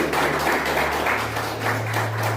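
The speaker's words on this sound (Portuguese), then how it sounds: "Palmas para Jesus, amado." Church congregation clapping during a Portuguese-language worship service, a steady, fairly loud applause with rhythmic pulses over a low sustained organ or keyboard tone.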